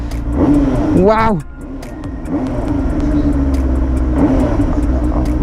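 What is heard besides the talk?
Benelli TNT 600i inline-four engine stock exhaust revving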